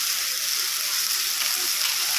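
Poppy seeds fry in a pan with paneer, a steady close hiss of sizzling oil, even and continuous without pauses.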